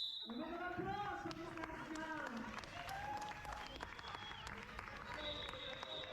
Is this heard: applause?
yes